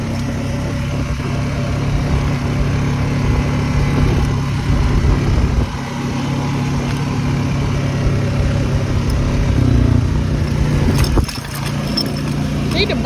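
A 520 motorbike rides across rural ground toward a mud hole, its engine a steady, close drone mixed with rushing wind noise for the whole ride, with a brief dip partway through.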